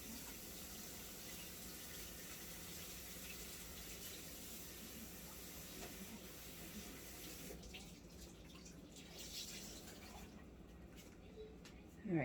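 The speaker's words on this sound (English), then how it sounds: "Let me go wash my hands." Tap water runs steadily into a sink while hands are washed after mixing cookie dough, a faint continuous hiss that shifts slightly as the hands move under the stream.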